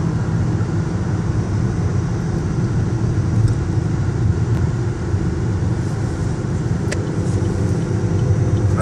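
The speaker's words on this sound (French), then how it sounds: "toutes ces voitures qui défilent" Steady stream of cars passing on westbound highway 495 in Maryland, a loud continuous traffic roar with tire hiss and low rumble, no talk.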